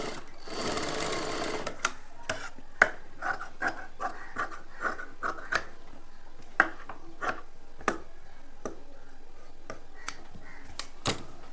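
A sewing machine stitches a straight seam on a simple blouse, a dense burst of running stitches followed by sparse, evenly spaced clicks and taps, close and alone without talk.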